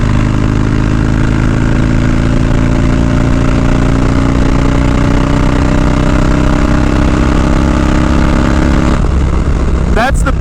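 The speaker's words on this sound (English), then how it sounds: "that's the bike pulling in 6th gear" Motorcycle pulling hard in sixth gear at highway speed, a loud, continuous engine drone with rising pitch and heavy wind roar throughout, ending in a brief clattering buffet.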